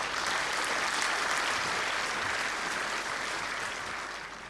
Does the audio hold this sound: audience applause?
yes